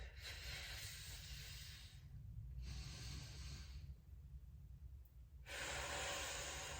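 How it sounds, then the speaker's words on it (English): Deep breathing during a hip-strengthening exercise, with slow pushes and releases: three long, airy, hissing breaths sound very close to the microphone, separated by short quiet pauses, with no speech. "With nice deep breaths."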